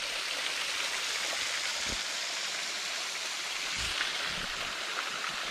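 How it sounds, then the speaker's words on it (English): A waterfall in Fall Hollow, Tennessee, gives a steady, broad rushing roar like heavy rain. It holds at one level from start to finish, with a couple of faint low thumps and no voices. "Well, I found another section of the waterfall."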